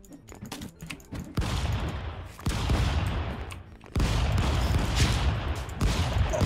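Repeated shotgun blasts in the video game Stick Fight, with several loud, broad bursts going off in quick succession during chaotic brawling. No voices are heard.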